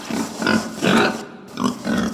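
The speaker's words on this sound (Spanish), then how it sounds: "Este es mi gran amigo, muy gordito y alegre, ¡el cerdo!" A pig oinks in a series of short, grunting bursts with brief pauses between them, close and clear, with no talking over it.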